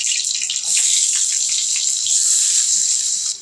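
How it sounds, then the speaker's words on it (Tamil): Fennel seeds, curry leaves and onions frying in hot oil for a Tamil Nadu–style pepper chicken, a steady loud hiss and crackle filling the whole stretch without talk, easing off at the very end. "கொஞ்சம் கருவேப்பிலை, வெங்காயத்தை சேர்த்துடலாம்."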